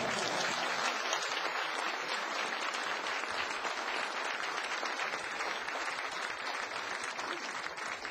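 Dense, sustained applause from a large audience at a government luncheon with export company staff, steady and loud throughout with no talk over it.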